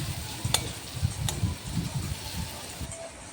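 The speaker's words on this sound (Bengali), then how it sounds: "তারপর এগুলো সবগুলোকে ভালো করে ভেজে নিলাম।" Green chillies and coriander leaves frying in a pan, a soft, low sizzle with light rhythmic stirring and a few utensil taps, fairly quiet and close.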